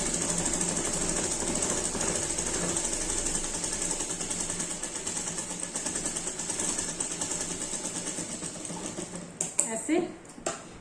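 A sewing machine runs continuously while stitching the edge of a kurti collar, a fast steady mechanical whir close up, then stops near the end with a few handling clunks.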